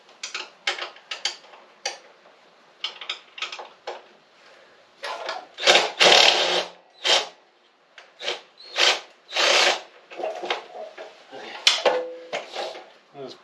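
A power tool pulls bolts out of a lawn mower deck during a teardown, in repeated short bursts of whirring with gaps between them, close and fairly loud, with some handling noise in the pauses.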